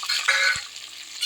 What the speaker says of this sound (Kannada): ಚೆನ್ನಾಗಿ ಫ್ರೈ ಮಾಡ್ಕೊಳ್ತೇವೆ.